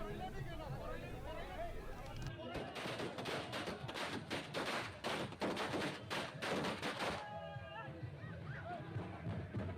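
Rapid crackling bursts of fireworks set off by party workers at a Congress (UDF) celebration in Kerala, dense popping volleys over crowd chatter and cheering, loud for several seconds before fading back to voices.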